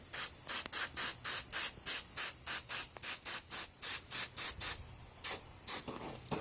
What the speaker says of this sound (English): I'll get my airbrush right. And I'll just put a few little bitty spots up here.